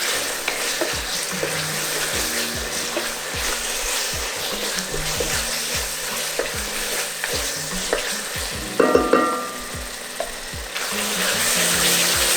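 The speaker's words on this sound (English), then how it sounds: "just frying that a little bit." Onions sizzle and crackle in a hot pan, with intermittent scraping and stirring clatter from a utensil, close up and continuous, while cooking jollof rice.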